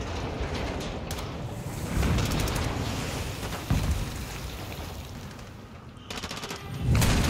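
Rapid gunfire bursts from the Call of Duty Modern Warfare 2 campaign on Veteran difficulty, steady and fairly loud, with denser volleys near the start and end over a continuous game-action din.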